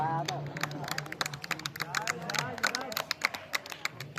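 Clapping from the crowd at a sub-junior softball tournament closing ceremony as a team is called up for medals: steady, brisk applause running under an announcer's amplified voice throughout.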